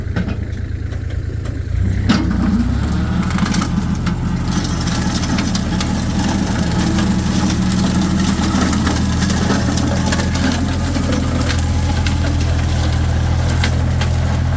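Kubota L3408DT 34-horsepower diesel tractor idling, a steady low rumbling engine drone that grows louder after a brief start and stays constant, close to the microphone with outdoor background noise.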